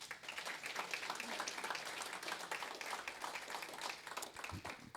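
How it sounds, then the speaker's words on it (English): Rotary club members applauding during a year-in-review meeting, a faint, steady patter of scattered clapping from a small room audience. "That needs a round of applause."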